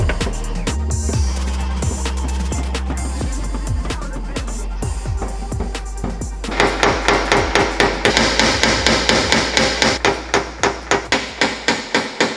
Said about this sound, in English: I'll start hammering on this crown.